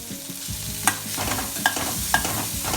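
Carrots sauté in a pan for a stuffed onion dish, with a soft sizzle underneath and several sharp scrapes and clinks of a spoon stirring against the pan, and no talk.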